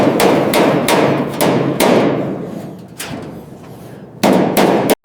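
Hammer striking a metal body panel on a 1967 Camaro Z28 during rust repair, a close, loud series of sharp ringing blows in an uneven rhythm with a short pause before the final strikes.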